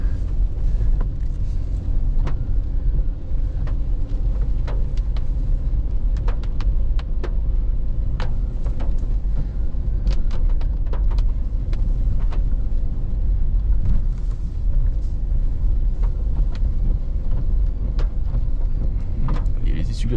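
A Dacia Duster 3 with the 1.2-litre 130 hp engine and 4x4 drive, on a dirt track at night under headlights, gives a steady, loud low rumble with scattered sharp knocks and clatters from bumps throughout.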